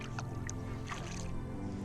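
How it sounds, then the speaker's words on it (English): A canoe is paddled against the incoming tide on the tidal stretch of the New River in eastern North Carolina, with soft watery splashes and drips from the paddle strokes close by over a low steady background. "so we're paddling against current now"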